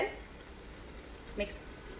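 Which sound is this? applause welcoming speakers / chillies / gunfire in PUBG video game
chillies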